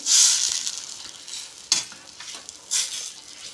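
Semiya and egg upma is stirred in a hot pan, giving loud, scraping sizzles in bursts, with one sharp scrape midway and another surge near the end.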